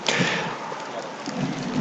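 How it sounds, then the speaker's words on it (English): Steady rain pouring down at an outdoor varsity baseball game, a dense continuous hiss with no voices. "Rain's still coming down here"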